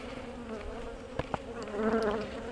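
Honeybees from Georgia buzz steadily around a nuc outdoors, a sustained droning hum with a couple of sharp close passes and a swell of louder buzzing near the end.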